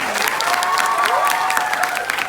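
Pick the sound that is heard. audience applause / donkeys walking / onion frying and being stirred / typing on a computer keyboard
audience applause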